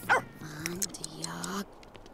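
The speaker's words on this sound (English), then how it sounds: "This dog is evil." A dog in The Sims 3 life-simulation game gives a short sharp bark followed by whining yips, close and fairly quiet, with game sounds around it.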